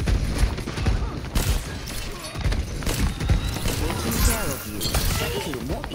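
Ana's grenade bursts amid Overwatch 2 combat on the Gibraltar map, among a dense clutter of impacts, crashes and gunfire, with voices talking over the chaotic mix throughout.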